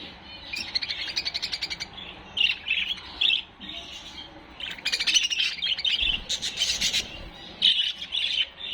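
Rainbow violet lovebirds chirp and squawk in quick, shrill bursts, several calls overlapping at close range with brief pauses between flurries.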